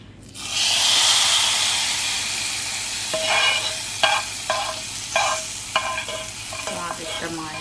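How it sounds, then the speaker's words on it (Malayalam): Chili powder heats in hot oil for a prawn, drumstick and tomato curry, giving a loud, close sizzling hiss that swells and then settles, with repeated stirring scrapes over the frying and no voices. "കുറച്ച് മുളക് പൊടി ആ ഓയിലിൽ ഒന്ന് ചൂടാക്കി എടുത്താൽ മതി"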